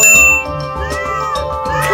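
Cat meowing in the Super Granny 3 video game, two short bright meows over chiming, tinkling game music, close and clear with no speech.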